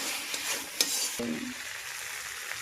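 Potatoes stirred into chicken ghugni in a hot pan: a steady sizzle of frying with a few spoon scrapes and knocks against the pan, close up, while the frying goes on quietly afterwards.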